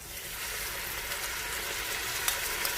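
Ground tomatoes go into mutton karahi frying in a wok, a dense close sizzle that holds steady and swells slightly, with faint stirring clicks and no speech.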